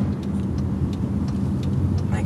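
Car being driven, steady low engine and road rumble running throughout at an even level, with a person talking over it.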